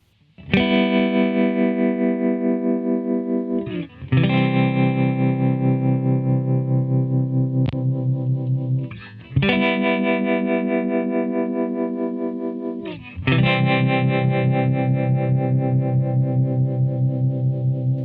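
Four sustained electric guitar chords ring out one after another through a wavering tremolo pedal effect, each held for several seconds with no voices.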